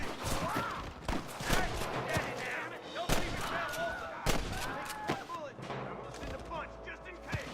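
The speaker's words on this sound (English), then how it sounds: "Stop shooting at me!" Video game gunfire, sharp shots cracking in rapid bursts and single reports scattered across the stretch, loud and close, with a voice talking over the shooting.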